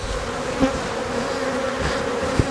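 Honey bees buzzing at the edge of an open hive, a close, continuous droning hum with no talk over it.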